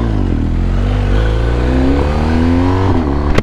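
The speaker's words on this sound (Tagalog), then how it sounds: "Kakalok na naman yung motor." A loud engine revs close by, its pitch climbing in a few stepped surges with a sharp clatter at the end.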